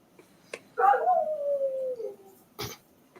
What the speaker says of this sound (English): Y'all hear my puppy dog.